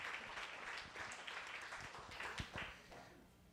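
An audience claps together at a talk featuring an activist and musician, a dense, fairly quiet round of applause that holds steady for a few seconds and then thins out toward the end.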